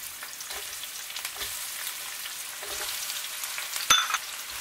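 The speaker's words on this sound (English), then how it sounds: "The first thing we're gonna do will be to fry our onion." Onions sizzle and crackle steadily in hot oil, with occasional soft stirring scrapes and a sharp clink near the end.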